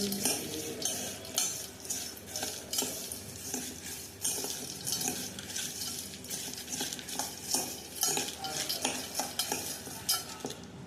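Food is stirred and mixed in a pan with a utensil, giving faint, quiet scraping and clinking strokes in an irregular rhythm and a soft sizzle underneath, with no talking.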